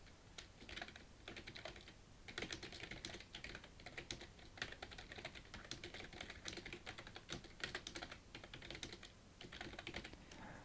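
Keys clatter on a computer keyboard in quick, uneven bursts of typing, faint and close, with no voices.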